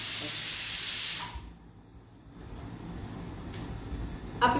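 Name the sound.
pressure cooker whistle releasing steam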